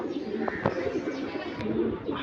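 A Giribaz pigeon, a high-flying line bird, gives soft low coos close by, with a few brief louder notes standing out over a steady murmur of background sound.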